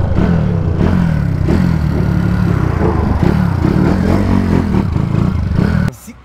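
A loud 149cc motorcycle engine roars steadily at high revs near 180 km/h, sounding close, before the noise abruptly drops near the end.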